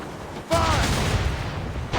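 Ship cannons fire in Assassin's Creed Rogue, a sudden loud broadside burst followed by a rumbling, crackling sustained volley, with a second blast at the end.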